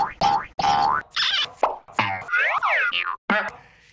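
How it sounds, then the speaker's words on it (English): Cartoon boing sound effects spring up several times in quick succession, bouncy and wobbling, mixed with clipped speech in a reality television show where the boings cover a curse word. "Did they just bleep a curse word with a boing sound?"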